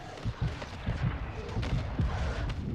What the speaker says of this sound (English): Yeah, a lot of explosions.